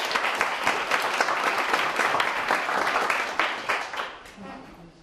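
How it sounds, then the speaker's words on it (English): Audience applause after a speaker is introduced at a history lecture: steady, dense clapping from a room of people that holds for several seconds and then tapers off. "So please, give a round of applause for him."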